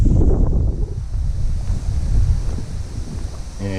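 Low-tide ocean waves wash steadily against a shore beside a campsite, a continuous near rush of surf with heavy wind buffeting the microphone throughout and no voices.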